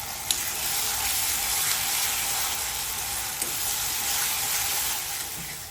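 Spice paste for dal tadka hits hot oil and sizzles loudly, a steady, dense hiss of frying that runs unbroken, with a couple of faint clinks in the background.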